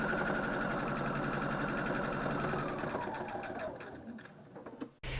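A sewing machine stitches at a fast, steady clatter, close and even, then slows and winds down to a stop near the end.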